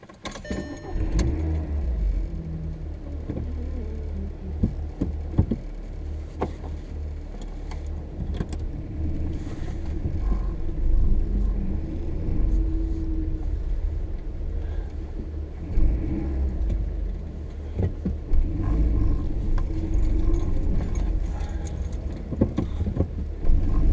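A car engine hums steadily from inside the vehicle, with road rumble, occasional clicks and rattles, and a few shifts in engine pitch as it drives along.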